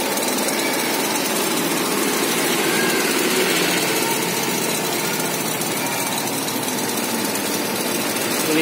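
A 1999 Kia Timor with a SOHC engine and a header exhaust idles close by, a steady, smooth, even hum that stays loud and unbroken throughout with no talking.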